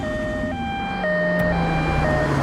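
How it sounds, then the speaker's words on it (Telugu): An ambulance siren in a Telugu film scene gives a loud, close two-tone wail that steps between pitches about every half second and repeats steadily. "ఒకసారి అంబులెన్స్ ఆపండి."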